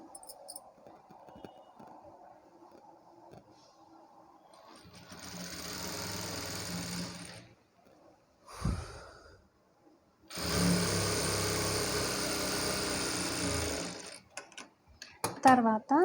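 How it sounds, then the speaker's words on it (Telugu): A sewing machine stitches folded blouse fabric in two steady whirring runs of several seconds each, close and fairly loud, separated by pauses, with someone talking quietly beforehand and a few clicks near the end. "చిన్న ఫోల్డింగ్ చేసుకొని ఇలానే స్టిచ్ చేసుకుంటూ వెళ్ళాలి"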